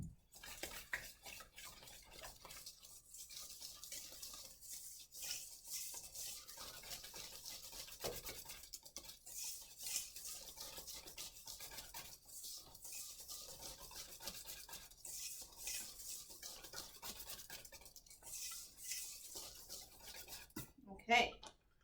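Egg yolks are whisked in a bowl, giving faint, quick rhythmic scraping and tapping strokes in repeated bursts with short pauses between them.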